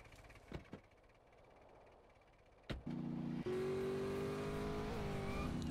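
A car engine in the video game GTA San Andreas: a few short knocks and clicks, then the engine starts up suddenly and holds a loud, steady, droning idle with revs climbing slightly.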